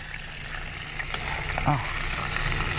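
Shrimp sizzles in a frying pan with butter and garlic for gambas al ajillo in a TV studio kitchen, a steady bright frying hiss with a brief stir or scrape partway through.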